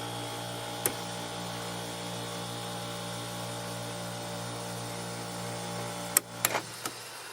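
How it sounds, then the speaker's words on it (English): An RV rooftop air conditioner's squirrel cage fan, rubbing against something and unable to turn freely, gives a steady mechanical hum with faint scraping and a few sharp clicks near the end. "the squirrel cage is rubbing on it and it won't turn"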